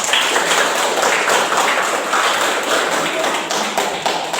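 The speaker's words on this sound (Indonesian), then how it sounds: "Kasih aplaus untuk kita semua" An audience applauding after a teacher's coaching presentation, a steady, dense wash of clapping that fills the whole stretch, fairly loud and close, with no talk over it.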